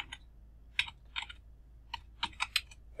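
Typing C code into a nano editor on a Linux computer keyboard, a few quiet close clicks and short bursts of keystrokes with pauses between them, no voices.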